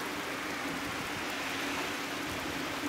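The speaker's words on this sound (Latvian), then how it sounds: "Bet nu pati lietusgāze krietni intensīvāka." Heavy thunderstorm downpour in Jelgava, a steady, dense hiss of rain falling continuously and fairly close, with no voices and no distinct breaks.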